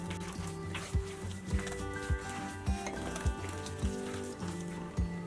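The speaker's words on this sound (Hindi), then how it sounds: "अब हम इसको अच्छे से मिक्स कर लेंगे" Shami kebab mixture being mixed with egg in a bowl, a steady rhythm of soft thuds and scrapes about every half second, close and even, over a constant background hiss with no talking.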